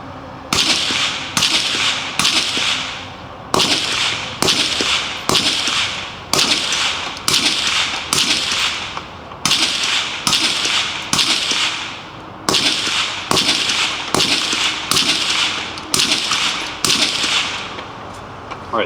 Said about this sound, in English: So those were all short-barreled rifles.